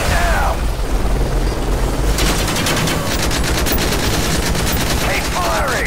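Loud machine gun and assault rifle fire in Call of Duty: Modern Warfare 3, rattling in rapid continuous bursts over a constant roaring background, with short sharp tonal blips at the beginning and end.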